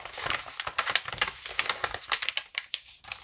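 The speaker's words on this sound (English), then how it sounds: "I love the sound of warped paper." A coloring pencil works quickly across warped paper on a Christmas snow-day drawing, making close, dry scratchy strokes in a fast irregular rhythm with crinkly, crackling texture.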